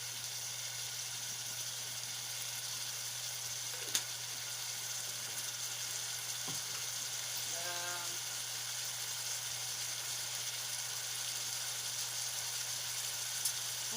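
Food seasoned with Italian seasoning cooks in a pan, a soft, steady sizzle and hiss running throughout, with a low hum underneath and a couple of faint clicks and a brief squeak, no voices.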